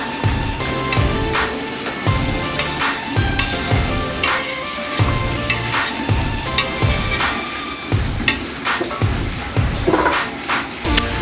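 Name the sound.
onions frying in oil in a pan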